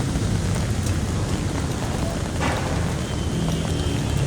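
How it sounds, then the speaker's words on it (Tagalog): Rain patters steadily on umbrellas on a Manila street in Binondo, a dense continuous hiss with occasional sharper drops and faint street sounds underneath. "Nakapayong tayo dahil maulan."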